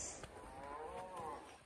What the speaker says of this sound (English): It's the cows. The cows.